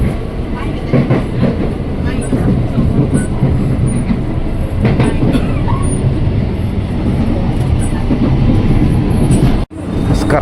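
Interior rumble of an Indonesian-built KRL INKA commuter train pulling out of Pasar Minggu station, loud continuous rolling noise with rhythmic wheel clatter and faint squeal, brief talk underneath, cutting out abruptly near the end.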